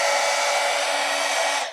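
A heat gun blows hot air onto a running shoe, giving a steady, loud, close whooshing roar that holds even for nearly two seconds before starting to fade.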